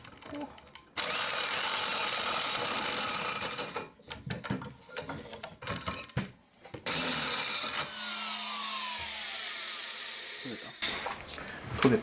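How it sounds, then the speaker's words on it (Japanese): An electric drill fitted with a 43 mm hole saw enlarges an existing hole in a car muffler, its steady loud grinding whine running in long bursts with short stops between them, close and dominant throughout. "43mm のホルソーを使ってまた穴を拡大していきます。"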